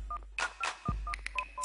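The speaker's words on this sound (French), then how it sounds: "Chloé téléphone à son grand-père, Paul, 85 ans." A telephone number is dialed, a quick run of separate touch-tone beeps with short gaps, clear and close over a low steady hum.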